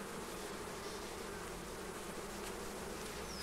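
Honey bees buzz steadily around the frames and gear during honey extraction, a close, continuous droning hum at fairly low volume that doesn't fade or pause, with nobody speaking.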